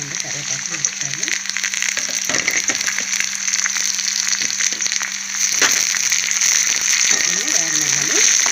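Green chillies and curry leaves fry in a pan of hot oil for a Telugu bottle gourd and moong dal curry, giving a steady, dense sizzle throughout while someone talks over it.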